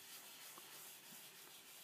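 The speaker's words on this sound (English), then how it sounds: "Can hear scratching the wood" A shellac-charged pad rubbed in small circles over a wooden surface during French polishing to fill the pores gives a faint, steady, sanding-like scratch. It continues without a break and has no voices over it.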